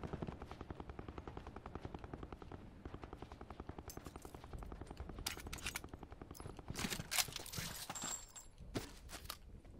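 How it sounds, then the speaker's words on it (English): Gunfire in a Blackout battle royale match on the Alcatraz map, with quiet distant rapid shots running under a fast rhythmic helicopter-like thumping and a few sharper bursts near the end. "I hear someone else shooting"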